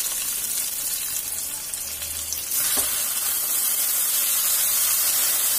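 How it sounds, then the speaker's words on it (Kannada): Tomatoes and curry leaves frying in a pan for fenugreek-leaf pulao, a steady, loud sizzle throughout that swells noticeably partway through as the tomatoes hit the oil, with no talking. "ಟೊಮ್ಯಾಟೊ ಎಲ್ಲ ಸೇರಿಸಿ ಸ್ವಲ್ಪ ಚೆನ್ನಾಗಿ ಅದನ್ನು ಫ್ರೈ ಮಾಡ್ಕೊಳ್ಳೋಣ"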